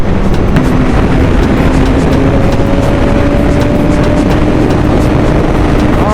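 A 2025 BMW S1000RR M Sport motorcycle engine drones loud and steady while riding, its pitch climbing slowly under heavy rushing wind noise, with no voices.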